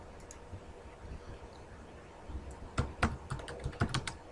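Someone types on a computer keyboard in quick, uneven bursts of clicking keys that grow busier toward the end, close and fairly crisp over a faint room hum.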